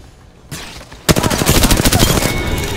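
Rapid automatic gunfire in the battle royale game Apex Legends, a loud burst of closely spaced shots after a faint lead-in, continuing in a fast rattling rhythm to the end.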